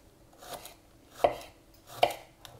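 A knife chops a peeled shallot finely on a cutting board in a kitchen: a few crisp, separate taps spaced about a second apart, close and clear with no talking.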